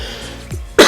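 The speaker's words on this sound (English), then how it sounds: "So excuse me, that cough." A single short, sharp cough bursts out near the end after a brief quiet stretch, close and fairly loud.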